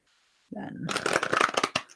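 Tarot cards being shuffled by hand, a rapid flurry of papery riffles and flicks close up, starting after a brief silence, with a faint voice mixed in.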